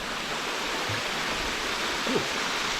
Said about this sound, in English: So this is the middle bit, the Rockhole part I think they call it. Waterfall.